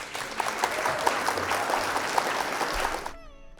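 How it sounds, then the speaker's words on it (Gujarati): Loud, steady applause from an audience at a Gujarati poetry recital in Dahod, sustained for about three seconds and then cut off abruptly. "જોરદાર તાળીઓ સાથે"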